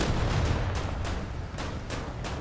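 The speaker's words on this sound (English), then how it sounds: "Done a substantial amount of damage with that secondary explosion" In the War Thunder naval battle, a PT boat's ammunition cooks off in a secondary explosion, heard as a rapid string of sharp cracks and pops over a heavy, continuous low rumble of battle.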